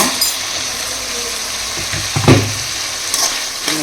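Small shallots tipped into a pan with tomatoes, giving a loud close sizzle with a sharp burst as they hit the hot pan, followed by stirring scrapes and a few light metallic clinks, without speech.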